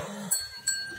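A rabid pregnant heifer gives abnormal, low, strained bleat-like calls in short bursts, close and fairly loud, with no one talking.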